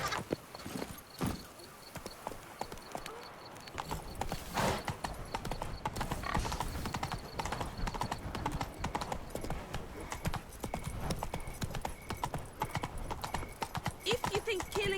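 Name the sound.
horse galloping, video game The Witcher 3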